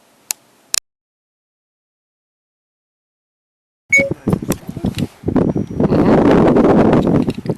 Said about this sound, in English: So we're fighting the wind here on Lake George.